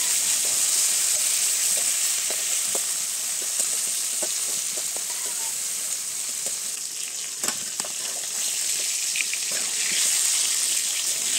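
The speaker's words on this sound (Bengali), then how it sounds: "এক পিঠ ভাজা হয়েছে, এবার মাছটাকে আমি উল্টায় দিব অন্য পিঠে।" Fish frying in a little oil in a pan gives a steady, close sizzle and crackle that runs the whole time, with a few soft clinks of a utensil as the fish is turned.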